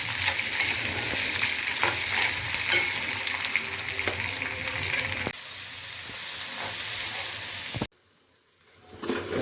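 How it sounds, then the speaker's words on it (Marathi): Ingredients for amti dal are dry-roasted in a pan, giving a steady sizzling, scraping stir for most of the clip before it drops suddenly to near silence and then rises faintly again. "इकडं आमटीचं मटेरियल भाजायचं चाललेलं आहे"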